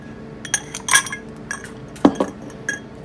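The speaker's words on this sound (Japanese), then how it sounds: "2つ目の氷を入れます。" Ice cubes dropped into a highball glass while preparing a whisky highball, giving a few sharp glassy clinks and knocks spread over a few seconds, close and clear with no talking.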